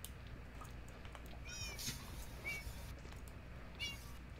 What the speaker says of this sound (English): It's a cat. It's a kitty cat.